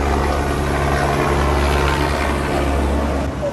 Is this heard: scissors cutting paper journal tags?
no